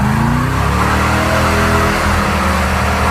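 A muscle truck fitted with a True Track differential accelerates hard with wheelspin, its engine roaring loud and close with a steady revving drone and rising pitch throughout.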